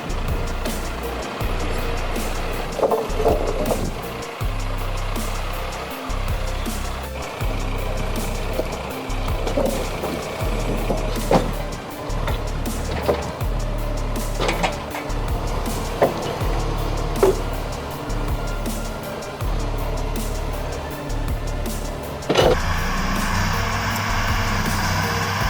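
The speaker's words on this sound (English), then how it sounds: "Here, you'll get an up-close look at logging operations with powerful high-horsepower machines working efficiently deep in the forest." High-horsepower logging machines working deep in a forest, a heavy engine droning and pulsing in regular low surges with scattered knocks and clanks of timber handling over it, continuous and close.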